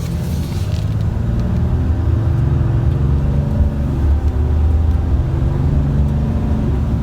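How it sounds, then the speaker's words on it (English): A 2019 RAM 2500 Laramie with a Cummins diesel engine accelerates steadily with a deep, continuous engine rumble and a constant turbo whine, close and loud throughout. "when you're accelerating, that turbo never stops spooling."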